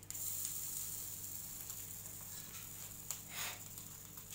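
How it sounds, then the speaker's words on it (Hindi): Chicken malai tikka brushed with butter sizzles in hot oil in a pan, a steady close hiss and crackle throughout with a few brief louder spatters and stirring scrapes near the end, without talking. "उसके बाद उसको हम सेकेंगे यहाँ पे तेल"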